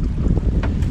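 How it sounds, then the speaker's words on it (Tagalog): Strong wind gusts roar across the open sea around a small boat, a loud, rough, constant rush with buffeting on the microphone, no voices. "malakas ang hangin"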